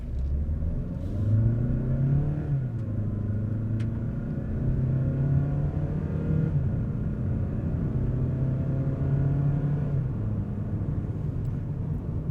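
A 2026 Mazda CX-5 2.0L with a torque-converter automatic pulling away from a standstill, a steady, moderately loud engine drone with a low rumble whose pitch climbs gently and then holds, with no speech.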